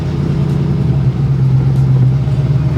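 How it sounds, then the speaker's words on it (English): A 2011 Factory 5 GTM car drives past, its engine giving a loud, steady low rumble that swells gently, heard close and alone with no voices. "Driving this beast of a car."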